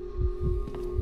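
Pulsing heartbeat in the horror game Case Animatronics, low thumps repeating steadily about four times a second over a constant electrical hum, close and moderately loud.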